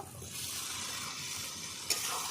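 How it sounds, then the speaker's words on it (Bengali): Jackfruit being stir-fried with ground spices in a pan, a soft continuous sizzle with scraping stirs and one brief sharp clink near the end. "ভালো করে কষিয়ে নেবো একসঙ্গে"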